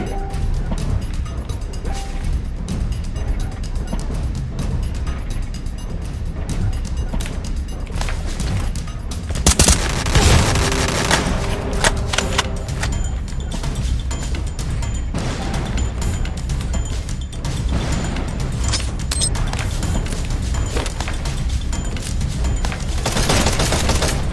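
Dense, continuous video game gunfire from a player shooting blindly out of a bush, loud throughout with rapid overlapping shots and a heavier burst near the middle.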